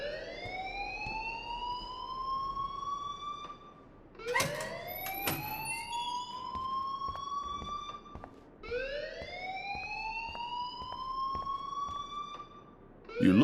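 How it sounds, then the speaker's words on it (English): A fire alarm wails in Life Is Strange, sounding in repeated rising sweeps about every four seconds, steady and fairly loud over a faint background with no talk. "please turn off that alarm since that's your job"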